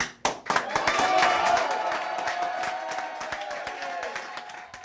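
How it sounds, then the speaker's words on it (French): Supporters and campaign team applauding at an election night rally for the first round of French regional elections: a dense, steady burst of clapping that swells early and then holds, with some cheering mixed in. "Fabienne Grébert sous les applaudissements de ses supporters, de son équipe"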